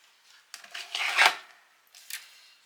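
A paper trimmer (massicot) slices through paper for a photo-frame box, giving a rising scraping swish of the blade that peaks sharply, followed by a shorter second rasp, close and alone.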